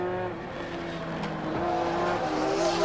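From onboard Peter Brock's race car at Mallala, a touring car engine holds a steady, droning pitch that climbs slightly as it accelerates, with a brief tire squeal, heard close and continuous.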